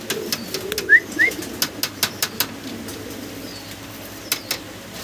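Farm pigeons, including Chinese owl and Andalusian-coloured birds, cooing in a cage, with soft close coos, faint chirps and sharp clicks or wing taps scattered through the clip.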